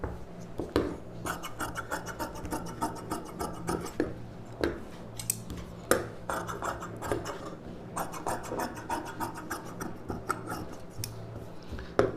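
Scissors snipping through a silk saree blouse piece for a U-neck blouse, a close run of crisp, rasping cuts in steady irregular bursts, with no talking.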